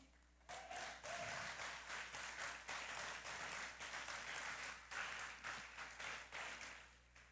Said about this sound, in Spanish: ¿Alguien quiere darle gloria a Dios con un aplauso?